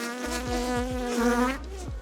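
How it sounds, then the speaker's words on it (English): Honey bees buzz steadily in an opened hive, a dense, close droning hum with shifting pitch and a few passing wingbeats, heard alone. "The bees are not happy at all."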